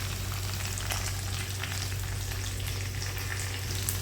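Onion, green chili, garlic and ginger sautéing in a pan, a steady even sizzle of frying throughout with faint scraping touches, no talking.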